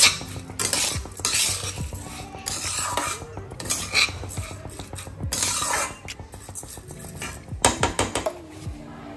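Spices and salt dry roasted in a metal pan, with a spatula scraping and clanking against the pan in repeated stirring strokes, close and fairly loud, with a faint sizzle beneath and no talking.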